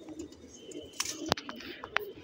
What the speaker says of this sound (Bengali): এই ঘরের অনেক পুরান কবুতর